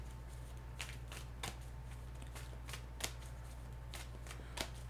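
Tarot cards shuffled by hand, heard as a series of soft, crisp riffling bursts spaced irregularly over a low steady hum, fairly quiet and close, with no talking.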